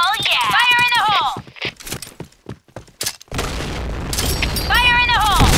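Grenade explosions in the video game Point Blank: a loud broadband blast bursts in about midway and roars on to the end, after choppy gunfire and game voice callouts at the start and a voice callout again near the end.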